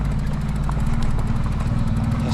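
A motorcycle engine idles close by on a Colombian roadside, a low, steady rumbling putter with a slight clattery edge, continuous and alone.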